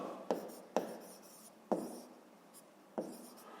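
Pen or pencil writing down a math solution about the volume of a cube, heard as four sharp, close taps and short scratches at uneven intervals against a quiet background.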